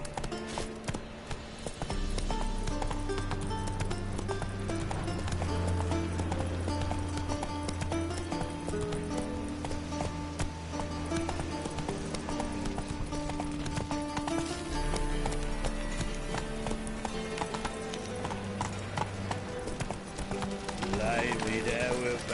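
Roach, the horse in the video game The Witcher 3, steady rhythmic hoofbeats of a gallop running continuously under a musical score, with speech over parts of it.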